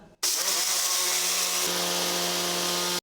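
An electric mixer grinder runs steadily, grinding urad dal into a fine powder for murukku, with a loud continuous whir starting abruptly after a brief silence and holding through to the end, its pitch dropping slightly midway.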